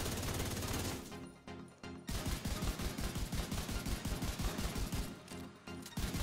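An Elmo assault rifle in the shooter game The Division 2 fires rapid automatic bursts, loud and close, with brief pauses between strings of shots.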